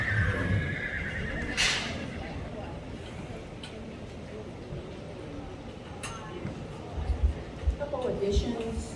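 Horses whinny loudly at a colt-starting competition inside a covered arena, one long neigh near the start and another burst toward the end, with hoof clops and a voice on the PA speaking over the echoing space.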